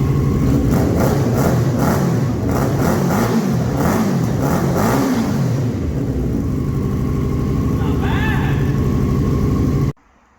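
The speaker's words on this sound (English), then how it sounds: "See how the super trap sounds." A car engine revs repeatedly through a loud, raspy SuperTrap exhaust, then settles into a rough idle before cutting off abruptly.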